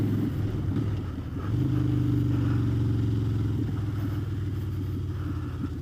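A motorcycle carries a rider out on the road, its engine a steady close rumble that swells as it accelerates after about a second and a half, then holds a continuous droning cruise with no one talking.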